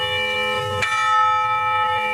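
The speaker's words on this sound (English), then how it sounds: "Sometimes we hit this bell so many goddamn times" A bell is struck once with a sharp attack, then rings on with long sustained tones that decay slowly across the rest of the moment, with a low rumble beneath.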